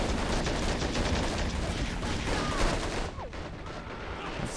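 Battlefield gunfire in the military strategy game Call to Arms: continuous dense volleys of rifle and machine-gun shots with explosions, loud and steady throughout, easing slightly near the end.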